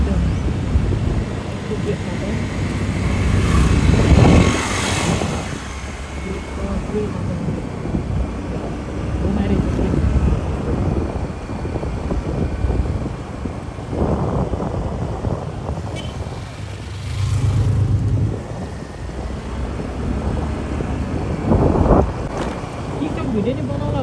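Strong wind buffets the microphone during a solo scooter ride near Bhaktapur, roaring in loud gusts that swell and fade, with engine and road noise beneath.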